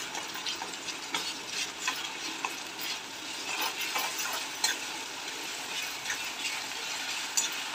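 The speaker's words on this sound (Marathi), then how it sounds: "आता वाटण टाकून घेऊ। छान प्रकारे मिक्स करून घेऊया।" Masala paste sizzles in hot oil with fried onion while a spoon stirs it through, a continuous close crackle with scattered scraping clicks and no talking.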